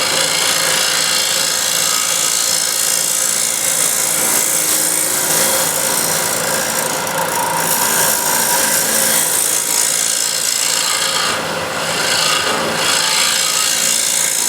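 A bowl scraper works across spinning wood on a lathe, giving a continuous loud rasping, rubbing scrape with a faint tonal whine that stays steady throughout, with no talking.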